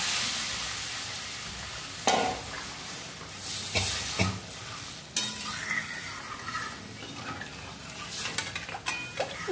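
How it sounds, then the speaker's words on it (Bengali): Potato cooking water and ground cumin and chili go into a hot pan: a hissing sizzle with sharp clanks of a utensil on the pan, then steady stirring and scraping, close and fairly loud. "আলুর যে জলটা ছিল সেই জলটা দিয়ে দিচ্ছি"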